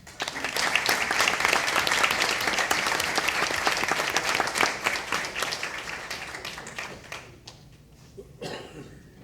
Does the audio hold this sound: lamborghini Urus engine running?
no